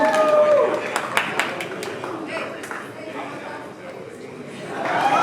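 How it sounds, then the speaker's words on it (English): Applause and scattered clapping at a boxing press conference, starting loud with sharp individual claps, then thinning into crowd chatter and murmuring before swelling again at the end. "Round of applause."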